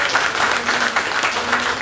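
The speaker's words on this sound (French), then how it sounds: "je vous demanderai d'applaudir chaleureusement le projet porté par Abdourahim Rahilou Garderelaï." Audience applause at a ceremony supporting women's entrepreneurship as a project is honoured, a dense, steady clapping from a crowd lasting throughout, with a faint voice underneath.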